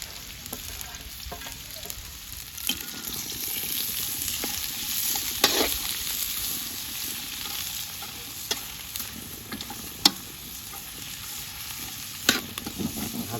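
Onion, garlic and green chillies fry in hot oil with a continuous loud crackling sizzle, broken by occasional sharp scrapes and taps of a spoon against the pan.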